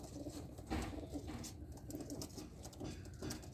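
Pigeons cooing softly in a close, quiet setting during a look at a breeding pair, low rounded coos repeating over steady faint background noise.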